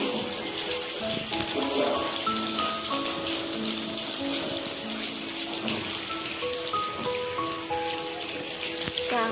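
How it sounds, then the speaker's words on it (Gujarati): Steady patter of rain falling on a surface in a village, constant hiss with scattered drips and faint tonal sounds in the background. "તો અમારે વરસાદ આવે"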